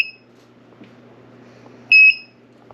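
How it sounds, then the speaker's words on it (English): A tumbler heat press machine used for sublimation gives short electronic beeps, one near the start and a louder, longer tone partway through, over a quiet room with faint background hum. "when this time's down, it's going to beep again"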